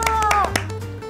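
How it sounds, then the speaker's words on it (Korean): A small group of (G)I-DLE members claps briefly, a handful of sharp, scattered claps over about a second, with a voice speaking underneath. "여러분 박수!"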